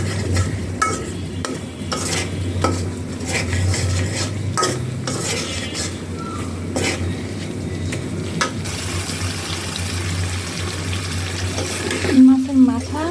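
Stirring fish heads and tails with salt, bay leaves, cinnamon and cardamom in a cooking pot for a North Bengal potato dish, a steady scraping and sizzling close by, with faint background voices.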